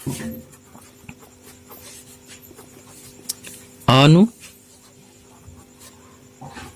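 Teacher writing on a board during a class, soft intermittent scratching strokes under a spoken voice, with one brief loud squeak in the middle.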